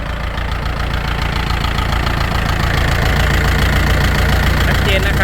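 A Kubota L4708SP tractor's diesel engine runs at a steady, loud idle throughout, with a continuous knocking chug heard up close.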